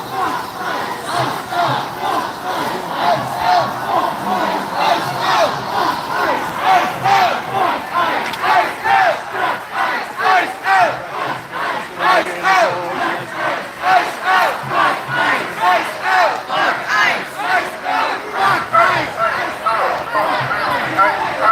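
A large protest crowd chants loudly and rhythmically in a downtown Minneapolis street, steady pulsing voices filling the whole stretch with no pause.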